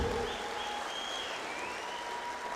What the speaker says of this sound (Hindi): जोरदार तालियां आपके लिए बजाना चाहती हूँ